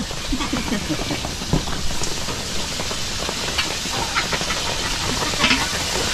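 Continuous crackling sizzle of food frying in hot oil, dense and close, with scattered pops and spits throughout.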